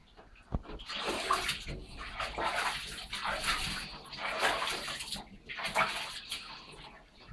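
Water splashes and sloshes in a tub while a pet is bathed indoors, soft irregular bursts of pouring and slapping water rising and falling, with a quiet bump near the start.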